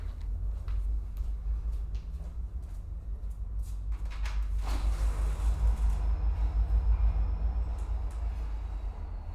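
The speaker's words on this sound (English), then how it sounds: "Can you guys hear the train?" A train passes by a house as a loud, continuous low rumble that holds throughout and swells toward the middle, with faint clicks and clatter above it.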